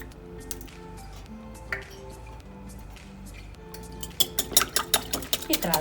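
A utensil stirs three egg yolks and one whole egg in a bowl for traditional Albanian sheqerpare, quiet at first and then a burst of rapid clinking and scraping near the end.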